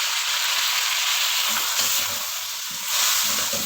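Vegetables and sauces for chicken vegetable macaroni stir-fry in a pan on high flame, a loud, continuous sizzling hiss close by, with faint clatters from stirring underneath.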